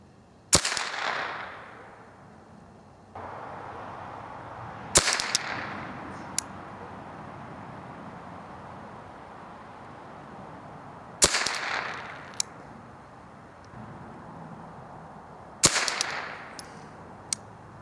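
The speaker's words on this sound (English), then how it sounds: "We'll shoot at the one on the left." Four gunshots fired at a target from a clean barrel, loud and sharp, spaced several seconds apart with short echoing tails and quiet gaps between.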